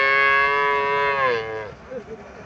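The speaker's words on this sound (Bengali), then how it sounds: "এখানে আরো একটা হোলিস্টাইন ফ্রিজিয়ান জাতের গাভী দেখা যাচ্ছে।" A Holstein Friesian cow at a cattle market gives one loud, close, drawn-out moo that slides downward and fades, followed by faint background noise.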